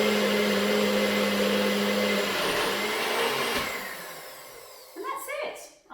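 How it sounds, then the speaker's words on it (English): A NutriBullet blender whirs loudly as it blends chickpeas for a snack, a steady close motor drone that winds down after a few seconds, followed by a few short clatters. "make a little bit of noise for about 20 seconds while the NutriBullet does its work"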